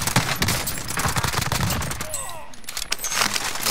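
Video game gunfire including a sniper shot bursts as rapid, loud cracks and rattling reports throughout, dense and continuous with game noise.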